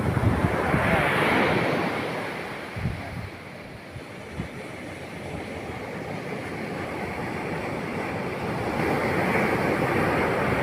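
Strong high-tide waves roll and crash along the shore in a continuous loud roar, with wind buffeting the microphone; no one speaks.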